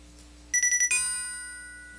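A Nokia mobile phone plays a bell-like ringtone: a quick run of four or five clear chiming notes followed by a sustained ringing tone that slowly fades, loud and close.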